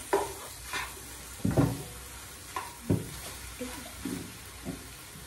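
An egg omelette fries in a pan while a utensil stirs and scrapes it in short, separate strokes, a soft close sizzle beneath the taps.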